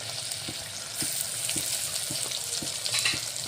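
Crushed ginger and garlic frying with onions in a pan, a steady close sizzle with soft regular knocks of stirring.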